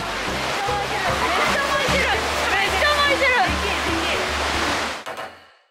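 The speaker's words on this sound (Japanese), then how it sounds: "ここは2つの海流が合わさるので、このような大きな渦が見えるんですよ" Rushing, churning water from a large ocean whirlpool where two currents meet in Japan, a dense continuous roar with sloshing, under a person talking, fading out at the end.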